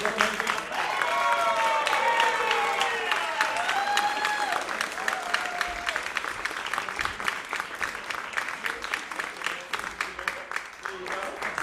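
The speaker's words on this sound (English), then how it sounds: "You gotta keep the applause going." Sustained audience applause in a vaudeville theater, a steady roar of clapping with cheering voices early on, thinning to more distinct individual claps toward the end.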